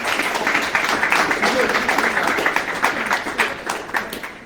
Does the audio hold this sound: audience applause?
yes